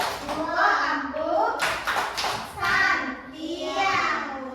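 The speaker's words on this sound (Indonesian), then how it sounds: "Tepuk tangan juga untuk Fahri" Children clap together for a classmate named Fahri in a first-grade classroom, a dense, steady patter of many small hands that swells in bursts, mixed with children's voices and an adult talking over it.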